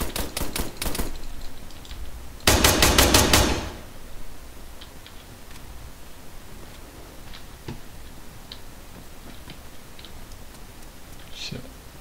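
Enemy gunfire in the military shooter ARMA 3: a short burst of rapid shots, then a louder rattling volley, and after that only scattered faint distant cracks, with voices at times.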